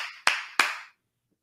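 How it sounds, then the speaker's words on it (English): Two sharp bursts of audience clapping at a live real estate investing talk, each loud hit trailing off quickly, then silence. "Let's clap it up with TJ, y'all."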